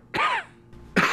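Two sharp coughs close up, separated by a brief pause, the second one harsher and louder.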